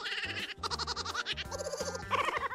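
A cat makes a strange bleating, goat-like noise in a rapid series of wavering, nasal cries, loud and close, one call following another without pause.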